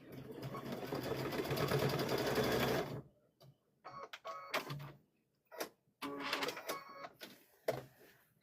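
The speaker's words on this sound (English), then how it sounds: "We could totally do a decorative stitch" Sewing a decorative stitch on a quilted Halloween tote bag, a sewing machine runs in one long continuous burst, then in several shorter stop-start runs with clicks between them, close and clear.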